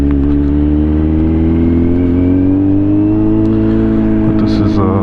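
A Kawasaki Z900 motorcycle ridden slowly through city streets, its engine holding a steady low drone with a gradual rise in pitch, close and constant, with someone talking over it.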